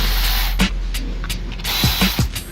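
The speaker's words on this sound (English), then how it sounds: "let's remove the radiator holding bolts" Ratcheting as radiator holding bolts are removed from a high-mileage Dodge Ram 1500, with several short bursts of clicking wrench work close by over a steady background hum, no talk.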